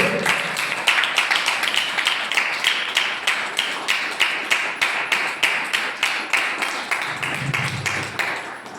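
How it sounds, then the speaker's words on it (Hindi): Congregation clapping hands together in rhythm during Sunday worship, a loud, steady run of evenly spaced claps with a low murmur of voices near the end. "आराधना करके, ताली बजा के परमेश्वर को धन्यवाद करें"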